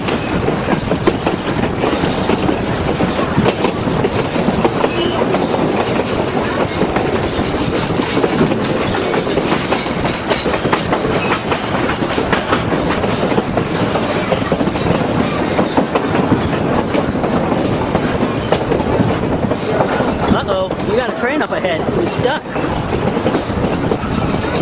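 A Durango and Silverton railroad train runs steadily on the rails near the Hermosa area, with loud, continuous rumble and rhythmic clickety-clack of wheels throughout, close and unbroken.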